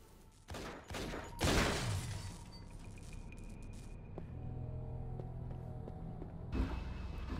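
A few sharp gunshots fired at a security camera in Infernal: Hell's Vengeance, the loudest burst near the start, over a steady droning game ambience and a later single crack.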